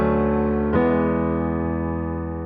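Sustained pop chords voiced as seventh chords, one held chord changing to another partway through, smooth and ringing with a slow fade, played alone.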